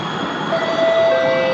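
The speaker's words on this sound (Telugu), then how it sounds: "మెట్రో వెళ్ళిపోయింది." A metro train pulls out of a station nearby, a loud steady rumble and rolling hum with a thin high whine rising over it, no talk.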